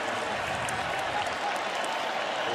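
A college football stadium crowd at a Michigan vs Illinois game roars and applauds in a steady, dense wash of noise that carries on without a break.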